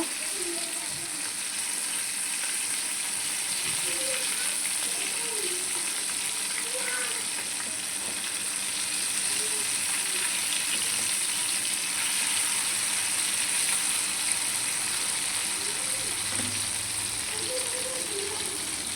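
Fish pieces coated in onion and chili fry in a pan with a steady, dense sizzle, close and continuous, with occasional soft scrapes as pieces are turned.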